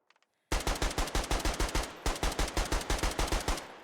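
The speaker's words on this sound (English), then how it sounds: "Kind of feels like every other marksman rifle, if I'm being honest, even though it has a little bit of a different sound and look to it." A marksman rifle in the video game Squad fires a long run of loud, evenly spaced shots, pausing briefly midway before continuing, with no talk.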